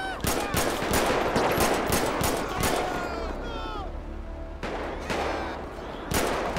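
Rapid gunfire bursts crackle through a GTA 5 police gang-unit shootout, sharp repeated shots clustering early, then a pause and renewed cracks near the end, with speech-like chatter mixed in.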